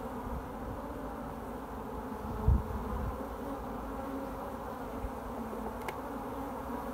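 Honey bees buzz steadily around a backyard hive holding a full brood box and a super, a continuous low drone close by with a brief louder swell near the middle.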